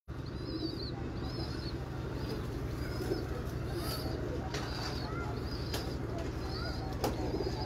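Salara pigeons in a breeder's loft coo softly in repeated short calls over a constant low hum, with occasional chirps and faint wing flutters.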